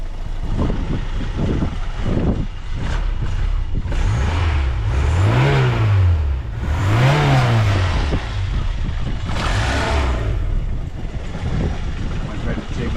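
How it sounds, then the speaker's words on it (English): A barn-find MK1 Ford Fiesta XR2 engine with automatic choke idling, then revved gently twice in short rising-and-falling blips before settling back to idle, with voices talking over it. "Won't rev it too much, so just a little bit."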